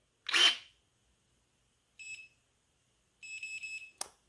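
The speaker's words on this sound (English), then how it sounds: "until we hear multiple beeps" A short burst of noise, then two series of high electronic beeps from an Anbull cordless electric pruner shutting down, one brief and one longer, ending with a sharp click in a quiet room.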